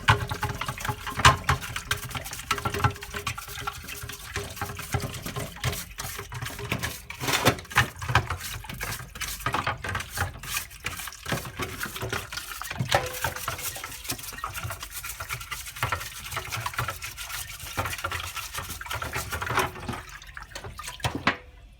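Dyson DC25 vacuum parts being brushed and scrubbed in a bowl of warm water: continuous sloshing, dripping and splashing, close and fairly soft, with no talking.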